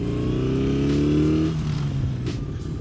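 A BMW R68 motorcycle engine revs up close, climbing steadily in pitch for about a second and a half before dropping back to a rough, lumpy idle.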